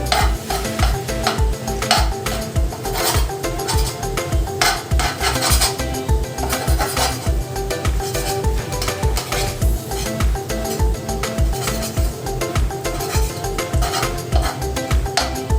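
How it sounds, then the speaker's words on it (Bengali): Eggs lightly frying in a pan for an egg and masoor dal dish, with a close, steady sizzle under quick rhythmic stirring and scraping of utensil against pan that runs throughout, with no talking. "হালকা, একদম হালকা করে ভেজে নিচ্ছি।"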